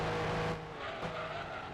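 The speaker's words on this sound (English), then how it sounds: "Like when the revs are falling down after downshifting and letting go of the accelerator, it sounds like it has 2 engines at times." Car engine in Gran Turismo 2 revving down after a downshift with the accelerator released, a loud droning whine with layered tones that falls away, alone and steady throughout.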